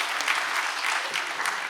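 A meeting audience claps steadily after a poem is read at a talk on preparing for flood and coastal submersion risks, a dense continuous patter of many hands with no voices over it.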